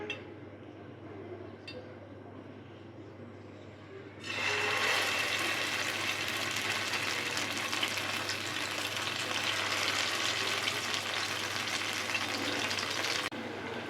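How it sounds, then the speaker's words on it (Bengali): Stuffed pointed gourd (potol) fried in hot oil: a quiet low murmur gives way to a loud, steady sizzle and crackle that holds close for several seconds before cutting off. "সবগুলো পটল আস্তে আস্তে ভেজে নিব"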